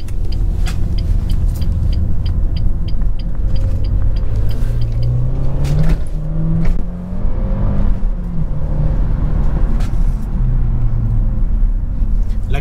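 A 2006 Renault Mégane II RS Turbo 225 three-door accelerates with a rising, muffled engine drone heard from inside the cabin, pitch climbing through gear changes with a steady road rumble underneath.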